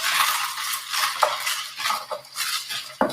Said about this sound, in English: So we just stir this up. This is for a quick sangria.